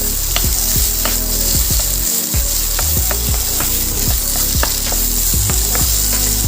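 Papad fries in hot oil with a loud, close, continuous sizzle, marked by repeated stirring scrapes at a fairly regular pace, with no talking.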